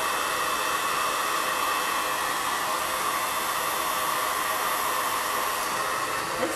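A hair dryer blows steadily on a freshly finished farmhouse wood board, a loud continuous rushing whoosh with no pauses or talk.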